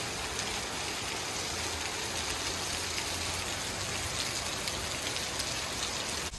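Heavy rain before dawn pours in a dense, even hiss of drops hitting surfaces, constant and moderately loud, with no voices.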